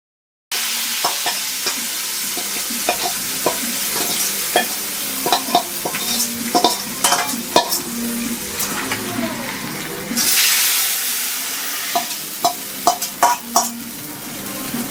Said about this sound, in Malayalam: ഒരു 5-8 ചെറിയുള്ളി ചെറുതായിട്ട് അരിഞ്ഞതും കുറച്ചധികം വേപ്പിലയും വെളിച്ചെണ്ണയിൽ നന്നായിട്ട് ഫ്രൈ ചെയ്തിട്ട് ഈ വറ്റിച്ച് വച്ചിരിക്കുന്ന മീൻ കറിയിലേക്ക് ഒഴിച്ചു കൊടുക്കുക.